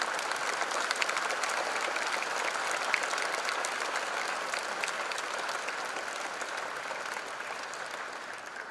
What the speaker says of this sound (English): Give a big applause to your parents as a mark of gratitude and respect